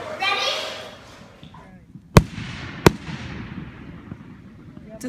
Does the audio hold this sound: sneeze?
no